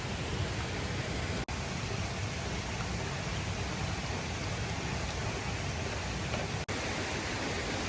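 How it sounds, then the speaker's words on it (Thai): Steady rain falls outdoors at a remote spot in nature during a fishing trip, a dense, continuous hiss heard alone with no talk, broken only by two very brief dropouts. "ฝนก็ตกไม่หยุดนะลูกพี่"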